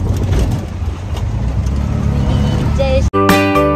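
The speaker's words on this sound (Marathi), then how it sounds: "आता मी रिक्षात बसलेलो" An auto rickshaw's small engine runs steadily throughout the ride, a loud continuous rumble, before a brief cut to a louder tonal passage at the end.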